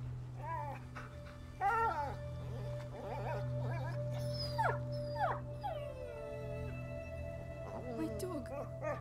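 In the video game A Plague Tale: Innocence, an injured dog whimpers and yelps in repeated high, wavering cries over a steady low hum, while someone talks in between.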